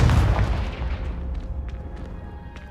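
A deep, booming magical explosion from the Confringo spell in the video game Hogwarts Legacy, one loud blast that rumbles and fades over a couple of seconds.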